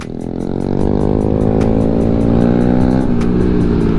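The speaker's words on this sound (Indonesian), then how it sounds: "San, sepertinya masih banyak nih tuh anak-anak motor yang pada naik ke Gunung Pancar." Steady, loud engine drone of motorcycles riding up toward Gunung Pancar near Bogor, with a rising rev and continuous roar throughout, no talking.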